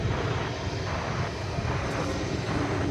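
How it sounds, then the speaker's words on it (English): A British Airways Airbus A380 waits at DFW Airport before takeoff, its engines producing a steady, fairly faint broadband roar heard from a distance with no talk. "A380, getting ready to take off back to London"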